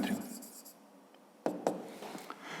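A pen writing on paper during a fifth-grade maths exercise, faint scratchy strokes that stop for a pause and then return as a few sharper taps and scribbles, close and quiet with no speech over them.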